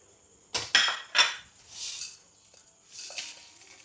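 Whole spices and Kashmiri chili tipped into a hot pan for a chicken fry masala. A few sharp clattering rattles come close together, followed by softer, duller rustles as the dry spices settle.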